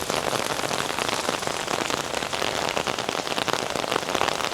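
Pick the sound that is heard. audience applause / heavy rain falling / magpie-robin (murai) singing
heavy rain falling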